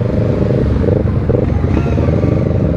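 A motorcycle engine drones loud and close while riding through traffic, a steady low rumble with clattering mechanical noise and slight rises in pitch.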